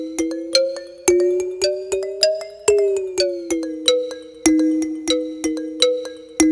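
A bright synthesizer tone repeats in a steady pulsing pattern, each plucked note decaying quickly while its pitch slides gently up and back down.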